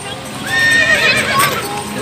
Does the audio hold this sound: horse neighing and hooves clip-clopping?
yes